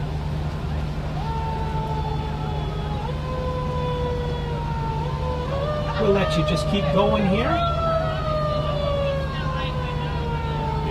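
A fire truck siren wails in long rising and falling tones during a Christmas parade in Thunder Bay while a loud horn blares midway; someone talks over it against a low engine hum.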